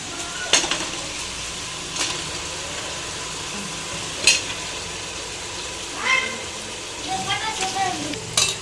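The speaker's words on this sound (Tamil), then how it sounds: "அது கூட வந்து மூளை வறுவல் பண்ணிகிட்ருக்குறோம்" Goat brain fried in a pan with onion, tomato and ginger-garlic paste, giving a continuous sizzle and frying hiss with sharp clinks of a spoon against the pan and a brief cat meow nearby.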